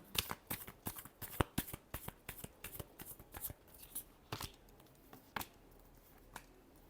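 Tarot cards being shuffled by hand in a quick run of crisp riffling slaps and flutters, close and fairly quiet, with the pace easing toward the end and no talking.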